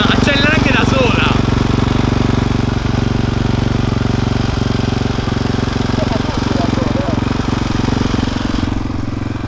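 A BMW S1000RR sport motorcycle engine runs loud and close on a steady, throbbing idle with a few light blips of revving, while someone talks over it throughout.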